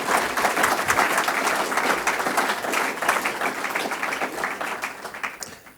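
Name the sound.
applause for new Safety Charter signatories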